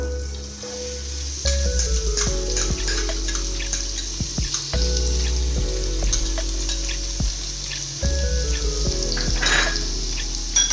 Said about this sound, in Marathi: आता हा तेल गरम झालं आहे, याच्यामध्ये आपण लसूण टाकून घेऊया